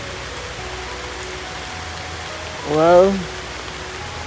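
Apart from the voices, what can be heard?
rain falling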